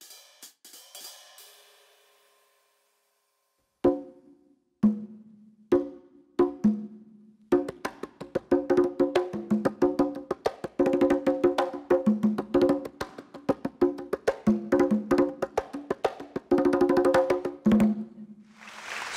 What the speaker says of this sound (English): We think it's a conga drum